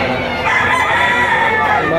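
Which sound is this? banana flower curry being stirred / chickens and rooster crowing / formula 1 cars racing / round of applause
chickens and rooster crowing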